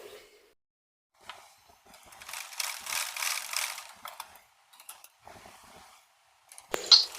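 A Laddu Gopal doll dress is stitched along its sides on a sewing machine, close mechanical whirring bursts of varying length separated by pauses, with a sharp click near the end.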